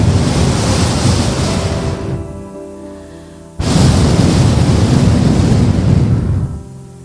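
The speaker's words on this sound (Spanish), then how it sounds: "Imagínate este mar que tenemos enfrente." Sea waves break on the shore in two loud, rushing surges separated by a brief quieter lull, with a steady roar and some wind, and no voices.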